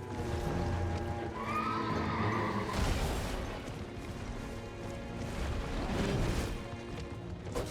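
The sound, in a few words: horse neighing and attacking in Elden Ring video game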